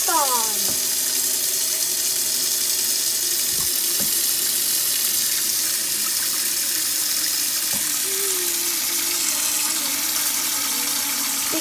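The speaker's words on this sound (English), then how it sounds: "I'm gonna put that sucker back on and turn that water back on." A bathtub tap running full, a loud, steady rushing gush of water pouring into the tub, constant throughout, with faint occasional clicks and a brief voice under it.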